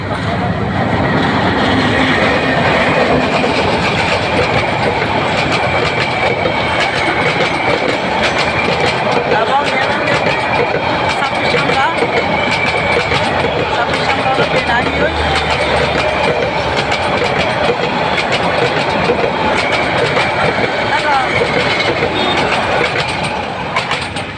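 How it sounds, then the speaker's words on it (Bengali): A train passing near Keranihat, Satkania, produces a continuous loud rumble and rattling clatter that holds steady for the whole stretch, with people talking over it. "এ দর্শক ট্রেন আগিয়ে"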